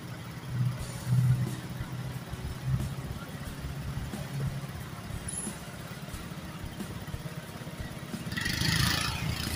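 Vehicles pass on a street at the Patmanon intersection in Surin in the evening, a steady low traffic rumble with one engine growing louder near the end.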